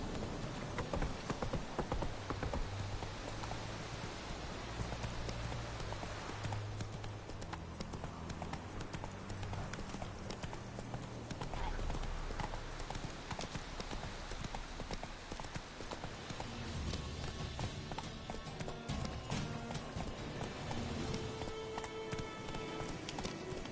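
Horse hooves gallop in The Witcher 3 game, a steady clip-clop running rhythm close by over a continuous bed of game ambience and music, with a little rain-like patter, for the whole stretch.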